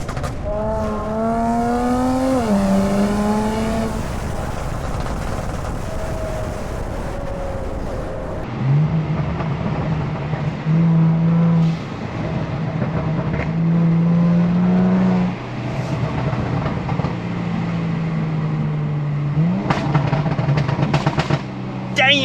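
A Kia Stinger pulls hard at full throttle, its engine note climbing steadily in loud, close, sustained bursts, dipping between gear changes before rising again, with tire noise underneath and no voices.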